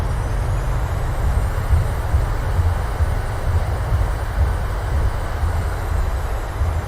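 A Boeing 737-700's thrust reversers roar on landing in Microsoft Flight Simulator 2020. A steady, loud broadband rush with heavy low rumble holds throughout, without speech.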